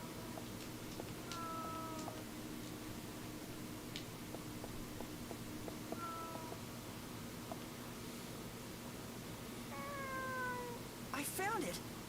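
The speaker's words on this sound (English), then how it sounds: "The cat's meowing on the other side." A cat meowing from the other side of a rubble-blocked exit in the Wii game Fragile Dreams: a few short, faint meows spread across a quiet, hissy, eerie background, with a louder burst of meowing near the end.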